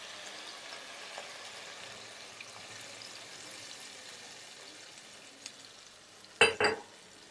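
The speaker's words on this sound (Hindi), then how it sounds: "इसको हम करेंगे अच्छे से मिक्स।" Spoon stirring mutton with coriander powder, turmeric, red chilli, garam masala and salt in a pot for kunna gosht, soft scraping and faint sizzle ending in two sharp clinks near the end.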